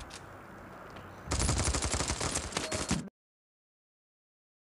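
Gunfire in the game Standoff 2 starts as a faint distant crackle, then a loud close automatic weapon fires rapid continuous bursts for about two seconds before cutting to sudden silence.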